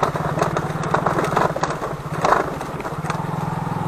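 An old-model Hero Glamour motorcycle engine chugs in first and second gear along a slippery, mossy stone road near Chatakpur, Darjeeling, a steady close low thrum with brief rattles and bumps.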